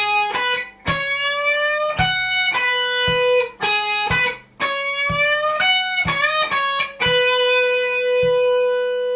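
Electric guitar plays the chop segments from a song, bright distorted chord stabs and short bursts in a tight, punchy rhythm with brief gaps, loud and close with no voices.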